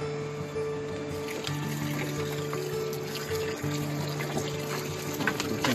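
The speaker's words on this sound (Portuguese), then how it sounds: "Aí agora vai esgotar a água." Boiled cooking water pours out of a pot of freshly cooked shellfish on board a boat, a steady close splashing stream over a constant low hum, with no voices.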